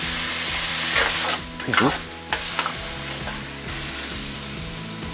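Vegetables, spices, cooked meat and sauce stir-fried in a wok at home, a steady close sizzle with clanking stirring strokes throughout and brief louder tossing bursts.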